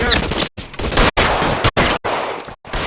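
Rapid bursts of gunfire from the video game L.A. Noire, loud and close, firing in several sustained volleys separated by brief silent gaps.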